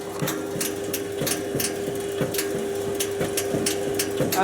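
Rhythmic knocking thumps repeat about every third of a second over a steady motor hum, a tumble dryer drum striking the motor as it turns.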